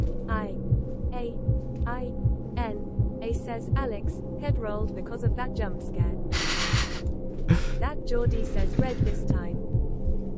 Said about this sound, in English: this raises my anxiety with the heartbeats